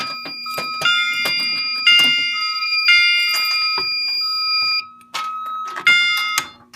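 A fire alarm system sounds repeated chime tones, ringing in a steady series of bright bell-like strikes with sustained harmonic tails and brief gaps, loud and close with no talk.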